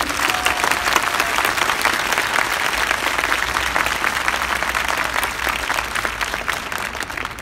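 A crowd applauds paramedics at a Poznań Chain of Light gathering, with steady, dense clapping held for several seconds.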